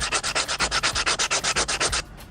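Rapid, even back-and-forth sanding strokes rasp against a hard coconut shell, about eight per second, close and loud, then stop abruptly.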